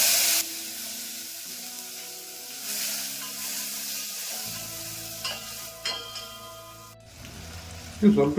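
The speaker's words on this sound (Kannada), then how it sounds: "ಕಟ್ ಮಾಡಿ ಇಟ್ಕೊಂಡಿದ್ದ ಟೊಮೊಟೊ ಹಾಕ್ಕೊತಾ ಇದ್ದೀನಿ" Chopped tomato dropped into hot oil with chilli, asafoetida and fenugreek tempering for mango rasam, giving a soft steady sizzle with occasional stirring clinks, close and quiet.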